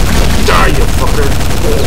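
Grenades from an ogre sniper explode in the shooter game Quake: loud, dense, rumbling blasts fill the short stretch, with a voice breaking in partway through.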